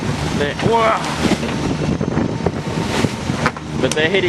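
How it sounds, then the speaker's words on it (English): Choppy two-metre waves slam head-on into a single-handed sailboat off Jervis Bay, a continuous broadband rush of wind and splashing water with irregular thumps of hull impacts throughout. "I've ended up in quite big chop and I suppose 2 metre waves, but they're hitting"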